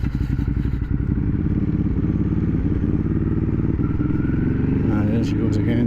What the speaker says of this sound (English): bit of quick shifter action, so there, third